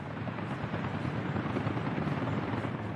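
Helicopters delivering supplies in the city-building game Workers & Resources: Soviet Republic give a steady, faint rotor whir and rumble with no voices.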